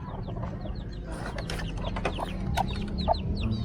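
Labuyo junglefowl and labuyo-cross chickens clucking, a busy overlapping chorus of short clucks and chirps over low farmyard rumble, close and fairly loud.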